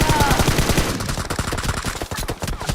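Automatic weapon fire in the video game PUBG Mobile comes as a loud, continuous rapid burst that rattles throughout, dense and close, with a voice briefly audible underneath.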